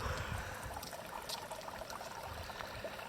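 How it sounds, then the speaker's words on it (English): Water runs steadily near a lakeside campsite by a beach in Northern Ontario, a continuous close trickling and burbling wash that holds an even level throughout with no voices over it. "Some running water"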